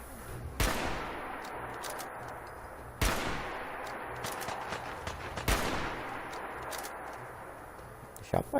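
Gunfire in Fallout 4 fighting a super mutant: three loud, sharp shots spaced a few seconds apart, each with a decaying rumble, over continuous game ambience.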